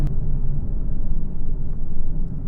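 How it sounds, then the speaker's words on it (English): Deep, continuous rumble of tire and road noise inside a moving Nissan 370Z with the windows up, low and droning with no talking. "Another thing I hate about this car is the road noise."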